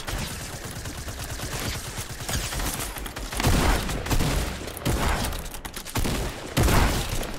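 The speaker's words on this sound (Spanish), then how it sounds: "A ver si a los jugadores le entran los tiros" Dense video game gunfire rattles almost nonstop in rapid bursts, with louder volleys and booming shots near the middle and the end. It is loud and close, and no one talks over it.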